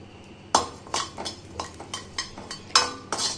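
Cumin seeds stirred in a hot iron kadai with a utensil: a run of about a dozen short metallic scrapes and clinks, fairly close and moderately loud, with no talking.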